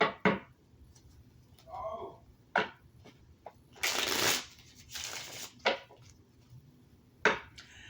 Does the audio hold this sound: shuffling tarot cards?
yes